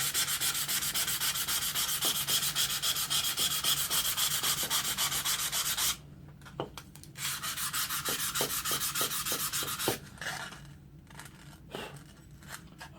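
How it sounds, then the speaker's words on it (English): Rhythmic back-and-forth sanding on a Stanley No. 3 hand plane, loud and close, with steady rasping strokes that pause briefly and then resume at the same pace. "that's it for the basic sanding there"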